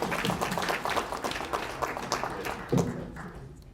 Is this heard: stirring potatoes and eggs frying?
no